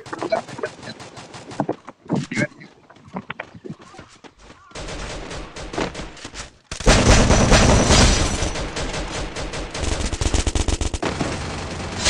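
Shotgun gunfire in a video game, with rapid bursts of shots and loud blasts that come and go, then a long, dense stretch of firing. A voice talks at times.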